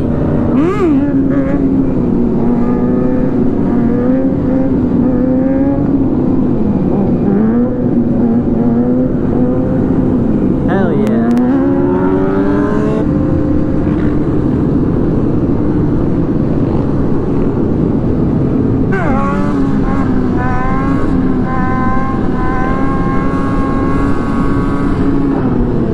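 A two-stroke 250 motorcycle engine revs repeatedly up close, its pitch climbing and falling in several sharp bursts over a steady idle, with faint talk in places.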